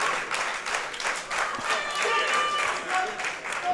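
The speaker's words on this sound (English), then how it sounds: "This crowd really, really into this match," A wrestling crowd at a student showcase match applauds and cheers in a steady wash of clapping and shouts, with a commentator talking over the noise.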